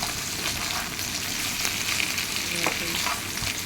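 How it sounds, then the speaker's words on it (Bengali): Ridge gourd and potato pieces stir-fried in mustard oil, a steady close sizzle with scraping stirs across the whole stretch and no voices. "এবার ঝিঙে আলু সব ভালো করে নেড়ে নিতে হবে"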